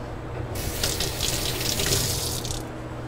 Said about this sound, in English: Let me wash my hands so I can put the gloves on